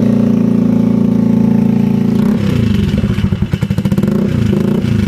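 Motorcycle with a budget inline-four aftermarket exhaust pipe and silencer fitted, idling with a loud, steady drone, then blipped into a rough, rattling, pulsing burst of revs close up.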